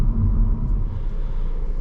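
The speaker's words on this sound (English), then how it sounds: "I'll kind of get one more half throttle acceleration going up this hill here." Low muffled rumble of a 2023 Audi A4 45 Prestige under half-throttle acceleration uphill, a steady deep cabin drone heard from inside, brief and without talk.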